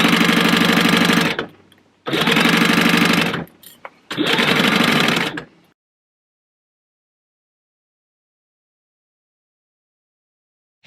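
Sewing machine stitching a fabric zipper pouch: three loud close runs of rapid mechanical chatter, each a second or so long, with short pauses between and silence after.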